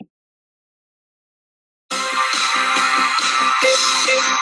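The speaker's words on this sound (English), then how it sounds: "Round 1 staccato sounds like this." After nearly two seconds of silence, a voice sings a staccato vocal exercise: a rapid run of short, clipped, detached notes, close and clear, with no accompaniment.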